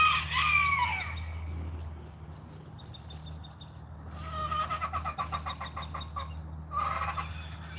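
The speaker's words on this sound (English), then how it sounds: "That thing's cock-a-doodle doing." A rooster crows loudly nearby in several bursts, with hens clucking in short broken calls between them over a low steady farmyard hum.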